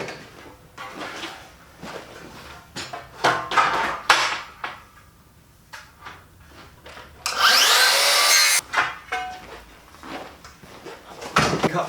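Cutting the ridge section of a roofing cutting kit, with a series of short scraping, sawing strokes and knocks, one longer harsh cutting burst in the middle, close and fairly loud with no talk.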